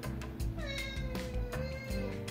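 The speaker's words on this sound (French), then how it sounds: "Mon chat n'arrête pas de miauler, si vous l'entendez, il va bien." A house cat meows repeatedly indoors, several drawn-out rising and falling cries close by, over a steady low background hum.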